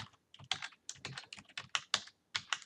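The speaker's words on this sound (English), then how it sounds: "So I'm going to type in the name of my data frame right there." Typing on a computer keyboard: a quick, uneven run of crisp key clicks in short bursts, close and fairly quiet, with no voice over it.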